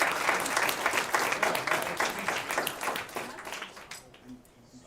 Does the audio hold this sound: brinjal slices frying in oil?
no